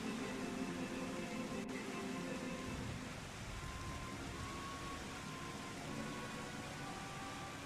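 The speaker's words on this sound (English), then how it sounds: "More dramatic because it's rainy and windy" Steady rain and gusting wind in the video game Final Fantasy XIV, a continuous broad hiss with low rumbling gusts throughout, no voices.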